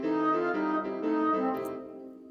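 Notation software playback of a short melodic phrase with staccato and slurred articulation: smooth sustained tones alternate with clipped notes, steady and moderately loud, with no voices.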